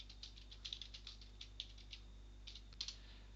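Keys on a computer keyboard are tapped in quick, irregular bursts, faint and close, over a low steady hum, with no voices.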